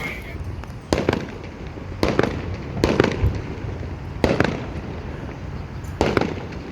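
Fourth of July fireworks bursting near a casino parking lot, with about six sharp booms at irregular intervals over a steady outdoor background noise.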